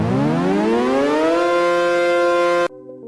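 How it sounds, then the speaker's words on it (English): A loud siren sound effect wails upward in pitch, then holds a steady tone before cutting off abruptly, leaving a faint lower tone behind. "That was the tones for Siren."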